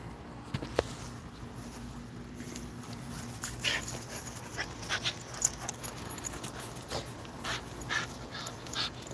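A dog pants in quick, uneven bursts with occasional soft whimpers, fairly close and fairly quiet, with no talking.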